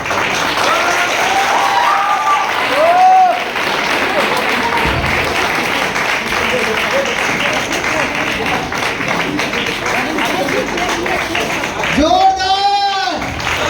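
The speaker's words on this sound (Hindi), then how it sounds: "जोरदार ताली होनी चाहिए।" An audience applauds during a speech by a Bhagalpur East mayor, a steady clapping roar running throughout, with voices and brief whistles or shouts rising above it.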